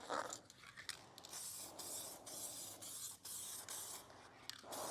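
Steady hissing spray bursts from a spray gun applying automotive base coat on a Camaro, in repeated passes with brief gaps, close and loud, with no talking.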